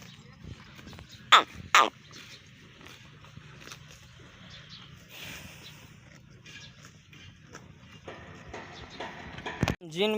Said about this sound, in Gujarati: તો ગાયું સરે છે અટાણે પડતરમાં।